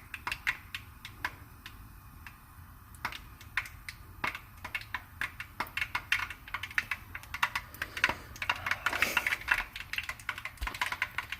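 Faint, irregular popping and crackling of skate wax melting, many small sharp clicks in quick uneven bursts, growing busier toward the end.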